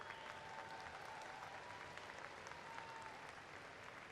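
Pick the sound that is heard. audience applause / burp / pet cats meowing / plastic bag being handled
audience applause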